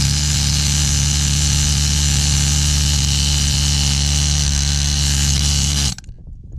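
A pneumatic needle scaler chattering against a rusty surface to strip away rust and debris, a loud, steady buzzing rattle held close by for about six seconds before cutting off abruptly into quiet.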